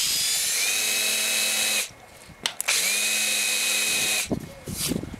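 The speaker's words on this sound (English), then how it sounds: "we're going to go ahead and countersink it" A power drill with a countersink bit whines at high speed into wood for two long bursts, close and loud, with brief pauses and a short burst of scraping and clatter at the end.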